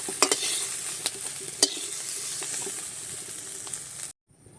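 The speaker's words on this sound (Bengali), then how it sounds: "চুনো মাছগুলো ভেজে নিয়েছি," Small fish frying in mustard oil in a wok, with a continuous close sizzle broken by sharp clicks and scrapes of a spatula, ending in abrupt silence.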